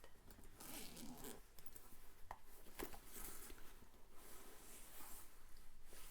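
Zipper on the small zip pocket of a Star Wars Loungefly bag, pulled open and shut in several quick rasping runs, close and crisp, with no talking.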